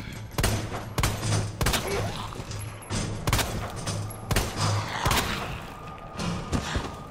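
Rapid, sharp gunshots from a handgun in the survival horror game Resident Evil 2, about a dozen loud cracks fired in quick irregular bursts over a low droning background.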